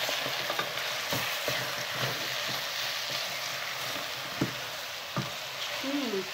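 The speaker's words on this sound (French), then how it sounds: "On va rajouter notre tomate concentrée. Donc on mélange le tout." Tomato paste is stirred into beef shank with oil in a pan, giving a steady close sizzle and fry with scraping stir strokes and occasional spoon taps, no voices.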